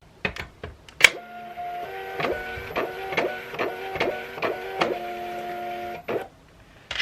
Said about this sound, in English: I'm going to go ahead and put these labels specifically inside of the machine